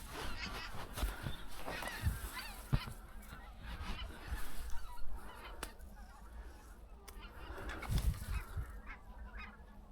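A high flock of migrating northern geese passes over on a December hunt in Germany, giving repeated distant honking calls over ten seconds against a faint outdoor background with brief quiet talk.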